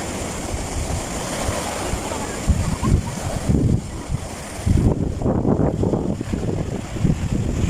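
Surf rolls and crashes close by, the wash building louder toward the end, with wind buffeting the microphone and a voice calling out briefly.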